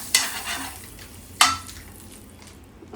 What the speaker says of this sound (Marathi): बटर टाकते आणि परत बारीक गॅस करून हे बटर सगळीकडे चांगलं पसरून घेते.